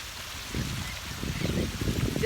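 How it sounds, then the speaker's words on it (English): Water flows and trickles in a botanical garden in Georgetown, Guyana, a soft, close burbling that swells after a quiet start and continues unevenly. "Listen to the sound of the water."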